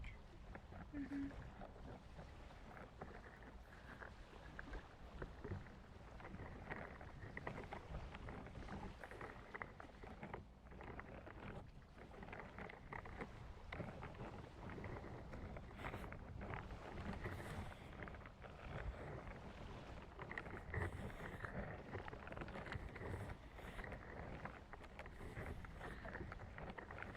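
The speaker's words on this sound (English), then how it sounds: "Rain sounds." Steady rain pours continuously with dense hiss and pattering, plus occasional low rumbles, sitting at a soft, even level throughout.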